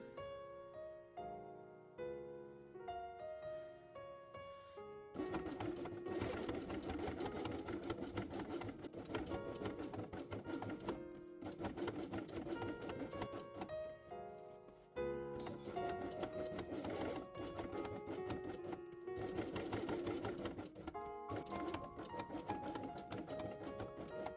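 A sewing machine stitches synthetic leather for a fabric quiet book, running in steady, fast mechanical bursts with short pauses between seams, close and clear with no talk.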